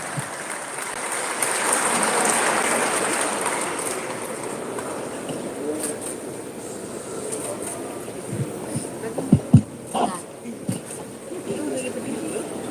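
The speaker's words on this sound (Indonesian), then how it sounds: "Tepuk tangan yang hebat untuk capres kita." Audience applause for presidential candidate Anies Baswedan at a DPD RI session: a steady crowd roar of clapping for several seconds that gradually thins, followed by scattered knocks and room noise.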